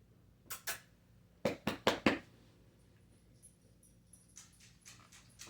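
A dog whimpers and yelps indoors in a quick series of short, sharp cries, a burst of four close together after two earlier ones, then fainter whines trailing off.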